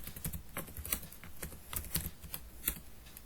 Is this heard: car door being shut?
no